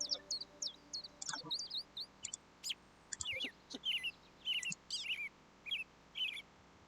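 Repeated high chirps and tweets of a sparrow bird call from the Wingspan board video game, a series of short bright bursts spaced through the clip, fairly faint and with no talk.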